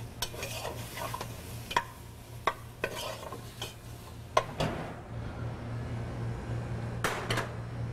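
Chicken and flour for a Mardi Gras dish being stirred in a pot, with faint intermittent scrapes and taps of the spoon against the pot over a steady low hum, followed by a quieter stretch and a couple of final clinks.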